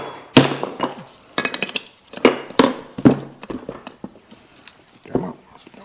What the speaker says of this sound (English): you can usually do it with a hammer